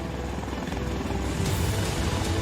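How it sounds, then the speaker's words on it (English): Steady, close rotor drone from a V-22 Osprey military tiltrotor aircraft, with rhythmic chopping and a dense engine roar, holding at constant loudness throughout. "The V-22 Osprey is the ultimate aircraft."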